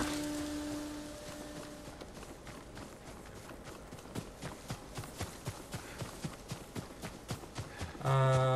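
Horse hooves clip-clopping in the samurai game Ghost of Tsushima, a steady rhythmic run of hoofbeats that starts faint and grows clearer, ending with a sudden loud tonal sound.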